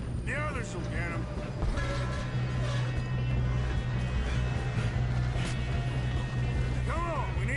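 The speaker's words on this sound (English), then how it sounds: "Come on, we need to stop this train." A train runs in a video game Wild West chase, a loud continuous rumble of wheels and carriages with whistle-like tones, while voices shout over it.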